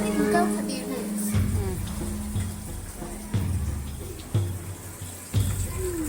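Water runs into the drum of a top-load washing machine, a steady rushing flow punctuated by several dull thumps, while a person talks over it.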